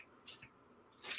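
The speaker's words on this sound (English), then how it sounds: "Spraying the money." Disinfectant spray is misted onto paper money, two short hissing bursts a moment apart, close and fairly quiet, with no talk over them.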